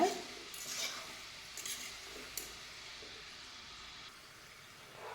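Atta mathri deep-frying in hot oil in a pan, stirred lightly now and then: a steady, fairly quiet sizzle and hiss with a few soft scrapes, heard alone without any talk.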